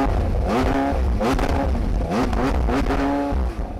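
A McLaren 720S with a 710-horsepower V8 barks into life and revs repeatedly, loud and close, with rising and falling engine pitch sweeps and no talking.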